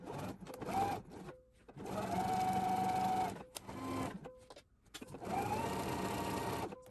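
A sewing machine stitches binding onto a quilted box bag in three long, steady whirring runs, each starting with a rising motor whine and separated by short pauses.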